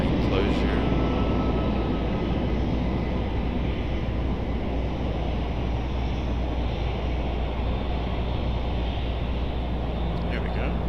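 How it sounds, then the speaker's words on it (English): A Delta A220 airliner at Raleigh-Durham airport gives a steady, broad jet roar that holds evenly throughout, with wind buffeting the microphone and a voice speaking at points. "Here's our Delta A220."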